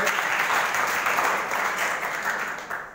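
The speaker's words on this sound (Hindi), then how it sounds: "चलो ताली बजाओ।" A group of school children clap together in dense, steady applause, fairly close and loud throughout, easing slightly toward the end.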